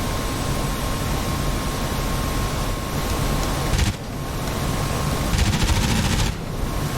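Aircraft machine gun fire in a video game aerial battle, with an F-84 carrying a Genie nuclear rocket. Dense rapid bursts ride over a constant engine roar, loud and close, with two brief breaks in the firing.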